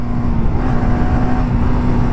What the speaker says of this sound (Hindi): बाइक चला रहा है।